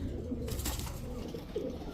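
Pigeons in a pigeon seller's loft give low, soft coos, close and continuous under a muffled background hum.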